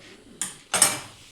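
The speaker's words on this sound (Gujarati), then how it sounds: "વાસણ ગોઠવવા માટે." Metal kitchen utensils clink and clatter twice in quick succession as they are set in place at home. The sounds are close, sharp and fairly quiet.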